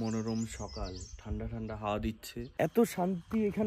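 Birds chirp softly around a hill homestead at Jhandi near Kalimpong on a cool morning; faint calls sit beneath someone talking close by.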